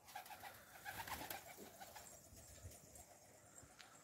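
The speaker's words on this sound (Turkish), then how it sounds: "Arkadaşlar, bir tane kuş gelmiş." A stray pigeon, red-tailed and white, coos softly on a rooftop among fancy pigeons, a faint low repeated cooing with some rustling around it.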